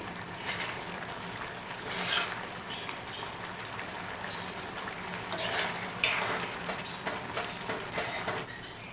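Semiya kesari, a sweet vermicelli dish, simmers and thickens in a pan while being stirred, giving a steady soft bubbling with a few louder scraping strokes, close and moderately quiet, with no talk.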